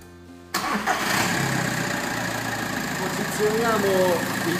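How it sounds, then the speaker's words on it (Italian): A diesel car engine cranks and catches after a short quiet moment, then settles into a steady, close idle rumble that runs to the end. "Ora metteremo in moto la macchina."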